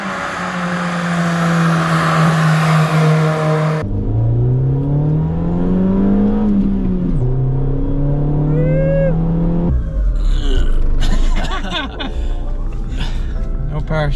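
A 1991 Honda Civic DX without VTEC drives with a loud four-cylinder engine, its tone rising and falling through revs and gear changes, with road and cabin noise, followed by louder bumpy rattling.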